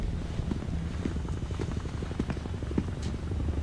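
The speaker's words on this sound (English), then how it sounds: "Helicopters coming in the distance." Helicopter approaching from afar in the Medal of Honor Warfighter shooter game, a steady low rotor chop and rumble that continues throughout at moderate level, with faint scattered clicks on top.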